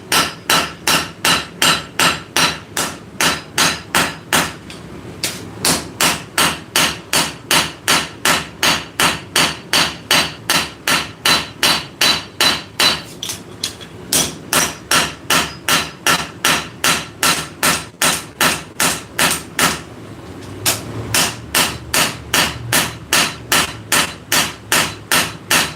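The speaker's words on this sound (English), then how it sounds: "So these particular hammer strikes are going at an angle this way" Steady, rapid hammer blows on a hot sword billet at a forge, struck at an angle to draw out the steel, ringing sharply in an even rhythm with only brief pauses between runs of strikes.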